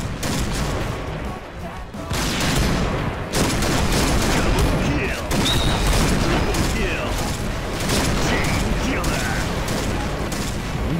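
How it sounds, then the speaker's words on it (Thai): Rapid, sustained gunfire in the Point Blank shooter game, dense bursts of shots rattling continuously and loudly with brief lulls, mechanical clicks mixed in. "ยิงกันรัวชิบหาย"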